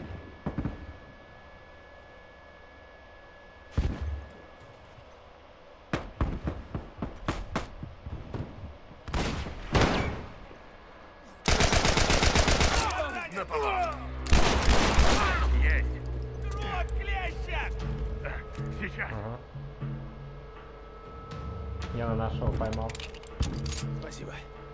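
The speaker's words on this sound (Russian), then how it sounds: "Два выстрела, один хэдшот" Rifle gunshots in The Last of Us video game, several sharp loud cracks scattered through the clip with bursts of heavy rapid fire in the middle, over a low game ambience with occasional talk.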